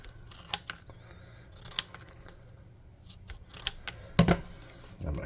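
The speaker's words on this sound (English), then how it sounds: "I'm just going to cut some rectangles." Scissors cut rectangles of material for panels and plates on a scrap-built futuristic strider model for a tabletop RPG. A handful of quiet, scattered snips with pauses between them, close by and alone without talk.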